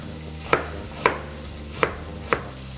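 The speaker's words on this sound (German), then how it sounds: "in der Zwischenzeit kann ich schon mal die Karotten klein stückeln, einfach so in Scheiben schneiden" Knife slicing carrots into rounds on a cutting board, four crisp, evenly spaced chops over a low steady background hum.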